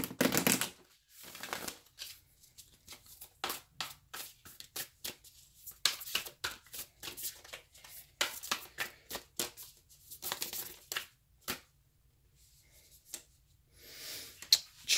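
A Whispers of Love oracle card deck being shuffled close up, quick papery riffles and slaps in irregular bursts separated by brief pauses.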